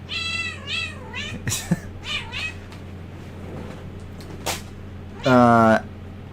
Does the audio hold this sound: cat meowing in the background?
yes